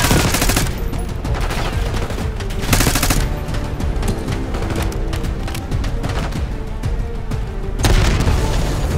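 Bursts of automatic gunfire and booming impacts in Call of Duty Black Ops 6 rattle loud and close, several heavy volleys separated by brief lulls, a final loud burst near the end.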